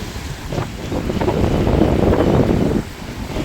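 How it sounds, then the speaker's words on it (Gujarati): A rough, stormy sea churns under strong wind, a continuous roar of crashing waves with gusts buffeting the microphone, briefly dropping before surging again. "દરિયો થઈ ગયો છે એકદમ તોફાની"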